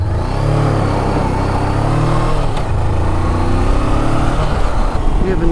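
A Honda CB500X dual sport motorcycle is ridden and accelerated, its engine droning loud and close with a rising pitch under steady wind rush for several seconds.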